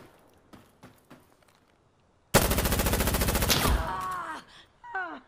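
Automatic gunfire in the tactical shooter game Insurgency Sandstorm: a few scattered shots, then a loud rapid burst emptying a whole magazine for over a second, followed by ringing echoes and softer clicks and movement.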